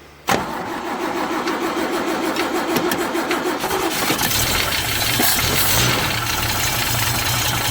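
An old Toyota FJ40 Land Cruiser, stuck in a ditch after sitting unused, cranks briefly and fires up, its engine catching and settling into a loud, steady running rumble close by.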